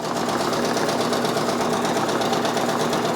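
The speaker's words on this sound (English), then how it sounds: "We are watching this set it off design stitch out using the Brother PRS 100" A Brother PRS 100 embroidery machine stitches a design with a fast, steady mechanical whir and rapid needle tapping. The sound is close and constant and runs alone without any speech.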